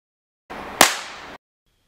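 A homemade thundercap packed with match-head powder explodes in one sharp, loud crack that stands out above a steady hiss of burning, which then cuts off abruptly into silence.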